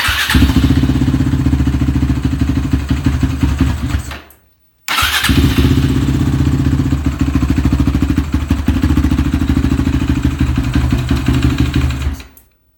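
A cold Suzuki LTR450 ATV engine with a very low idle and a faulty choke runs loudly, cuts out abruptly, then restarts and runs steady before dying again near the end.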